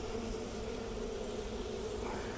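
Honey bees buzz steadily and close up around an open hive during a routine inspection, a continuous droning hum with no voices.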